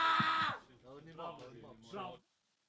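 A person imitates a shrill, high eagle cry for half a second, then keeps talking.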